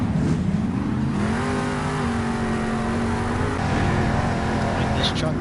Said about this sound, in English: the next truck that's going to tear at this track will be Monster Mutt